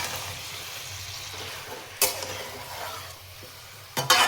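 Chicken and turmeric stirred in a pan on low flame for Hyderabad-style chicken: a soft, quiet scrape with a faint background hiss, broken by two sharp clacks of the utensil against the pan.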